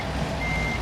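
Backup alarm of a semi truck in American Truck Simulator as it reverses to hitch a tanker trailer: a steady electronic reversing beep over a low engine rumble, brief and close.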